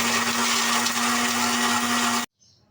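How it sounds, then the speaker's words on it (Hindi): An electric kitchen grinder pulverises makhana fox nuts into powder, a loud steady whirring motor hum that cuts off abruptly, leaving near silence with a faint rattle. "फुल मखाने भी बिल्कुल ग्राइंड हो चुके हैं।"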